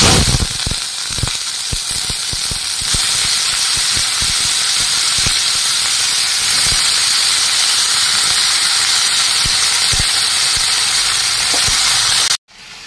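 Vegetables sizzle in hot mustard oil in a wok with panch phoron, two dried red chillies and bay leaves, a loud continuous hiss with crackling spatters running steadily before cutting off abruptly at the end.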